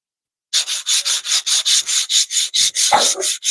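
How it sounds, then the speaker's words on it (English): Rhythmic sanding strokes on a wooden scale, about a dozen steady back-and-forth rubs, close and loud, with no talking. "Sanding it now"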